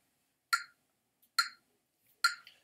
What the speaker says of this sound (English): And I'll play this using a metronome at 70 beats per minute.